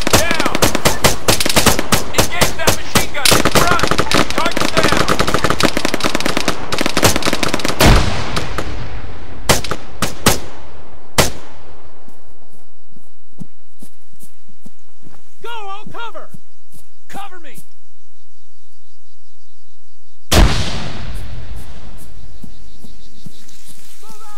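Rapid rifle and machine-gun fire in the video game Arma 3, dense bursts of loud close shots for several seconds, then scattered single shots, a lull with a brief radio-like voice, and a final sharp burst.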